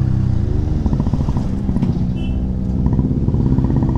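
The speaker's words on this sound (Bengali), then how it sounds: "এই দেখো ট্রাকগুলো কীরকম আসছে," Heavy trucks and other traffic rumble past on a climbing mountain road in North Bengal, a loud, steady engine drone with grinding mechanical texture filling the whole stretch.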